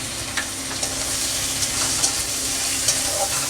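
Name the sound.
ginger paste, green chilli, turmeric and salt frying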